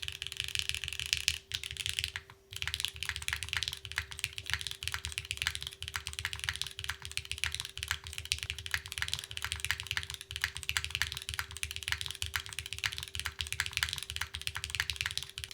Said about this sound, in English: Very clean sound profile. A little bit on the lower side, but it also could be the Milky Top Gateron L'Orange switches.